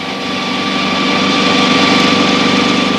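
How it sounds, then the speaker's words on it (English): A friction welding machine spins its rotating chuck at welding speed as the round parts meet, giving a loud, steady mechanical hum and whir that swells slightly and holds. "When the rotating chuck reaches the welding speed, the parts are brought gently into contact."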